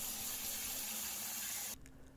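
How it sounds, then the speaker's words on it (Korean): Warm water pours from a tap into a large bowl, a soft, steady rushing hiss heard close up that runs evenly and then stops. "세제통을 분리했으면 큰 볼에 따뜻한 물을 잔뜩 받아주시고요"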